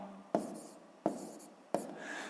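A pen writes a sixth-grade maths exercise solution on paper in three short, sharp, scratchy strokes spaced evenly apart in a quiet room.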